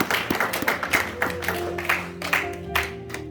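A church congregation at a Pentecost Sunday service claps in a steady rhythm, sharp hand claps repeating over sustained musical tones underneath.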